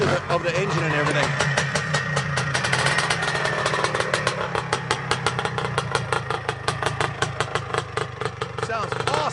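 A 1974 CZ250 motocross motorcycle idles close by, its two-stroke engine popping in a fast, slightly uneven rhythm, with someone talking over it.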